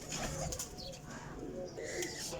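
Young champion flying pigeons in a loft, soft cooing and light flutters scattered over quiet background noise, fairly faint and close.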